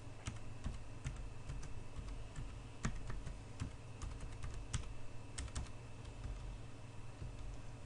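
Quiet, steady clicking of a computer keyboard as a password is typed, individual keystrokes tapping in an irregular rhythm close by, with no voices.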